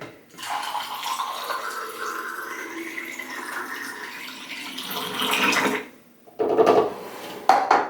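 Blix color developing chemical pours into a film developing tank in a steady liquid stream for several seconds, then stops, followed by clinks and handling noises of the tank.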